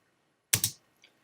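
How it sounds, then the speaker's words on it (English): A single computer keyboard key pressed while modeling in Maya, a sharp double click followed by a fainter release tap, close and alone. "hit 4 on the keyboard"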